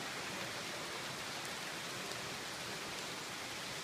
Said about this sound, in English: it's raining, but the rain is barely meeting the ground. That's how hard it's raining